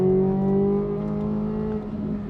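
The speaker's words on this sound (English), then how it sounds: "The flat plane crank V8 is utterly, utterly intoxicating in this car." A Corvette Z06's flat-plane crank V8 sings a steady, strongly tonal exhaust note at high revs, loud and close, holding its pitch before easing slightly near the end, with no voices.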